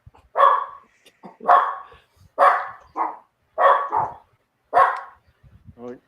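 Dogs bark close by in a series of about six sharp, loud woofs at a steady rhythm, a few of them doubled, with a short high whimper at the end. No voices are heard.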